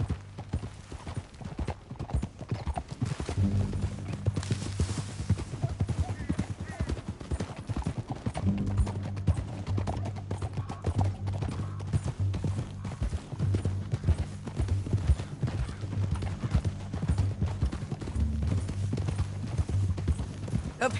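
Horse hooves clip-clop steadily on the ground in a Red Dead Redemption 2 ride, loud and continuous throughout, with a low music drone underneath and brief speech in places.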